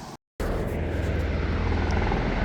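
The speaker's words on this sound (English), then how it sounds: "See, I told you there was a helicopter!" A helicopter flies over a river, a steady loud rotor and engine roar that fills the scene after a brief silent gap at the start.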